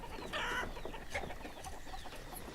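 Chickens cluck in the village-building game Banished, a few short clucks and a brief rooster-like call over a steady ambient background, moderately near and without any talking.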